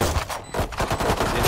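Rapid gunfire from a Valorant-style tactical shooter video game, a quick run of sharp shots that is close and loud throughout with no talking over it.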